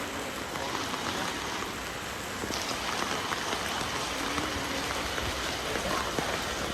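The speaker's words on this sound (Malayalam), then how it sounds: "ഗൈസ്, നല്ല മഴയാണ്, എല്ലാവരും വെയിറ്റ് ചെയ്യാണ്." Heavy rain pouring down outdoors, a dense, steady wash of drops hitting surfaces with no letup, fairly close and constant, without speech.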